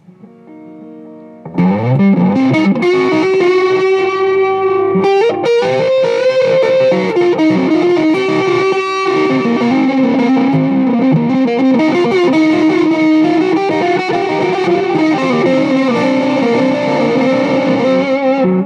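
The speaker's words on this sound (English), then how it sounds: "add a little distortion here to give you a feel on the highest delay setting" A loud, sustained electric guitar through an MXR Carbon Copy delay pedal on its highest delay setting, with heavy distortion and long echoing delay trails, playing continuously and thick, smeared tones building into a wash.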